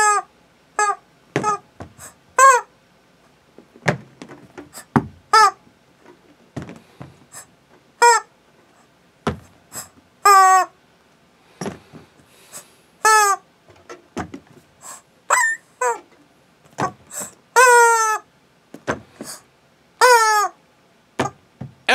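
A string of squeaky, honking squawks from rubber chicken toys, many short blasts and a few longer wails, loud and close with brief pauses between.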